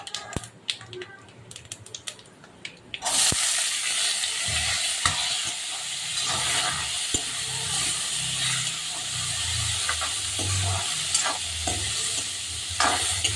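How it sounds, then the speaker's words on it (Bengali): Potatoes frying in oil with three bay leaves, four dried chillies and a pinch of panch phoron: a loud, steady sizzle bursts in after about three seconds and continues, with intermittent spatula scrapes and stirring clatter. "আলুটাকে আমি একটু ভেজে নেব"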